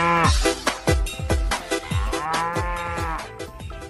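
A toy water buffalo gives a quick run of repeated mooing calls, each a short, loud, low bellow following close on the last, with no talking.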